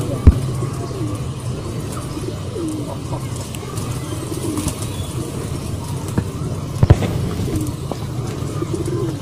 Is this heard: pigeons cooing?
yes